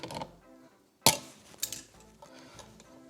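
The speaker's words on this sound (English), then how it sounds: "we're going to cut our wires to length" Electrical wires being cut to length while wiring multiple receptacles: one sharp snap of a cutter, followed by a few softer clicks and rustles as the wire is handled, close and quiet, with no talking.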